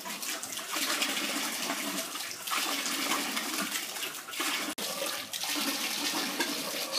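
Water gushes continuously from an aquaponics airlift pump, a loud, close splashing and bubbling flow with slight surges and no talking.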